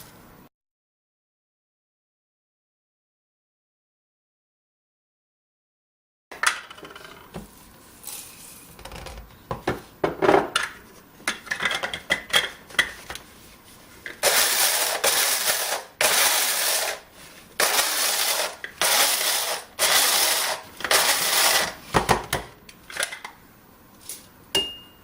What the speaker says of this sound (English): I'll be using a mortar and pestle to grind the cardamom seed.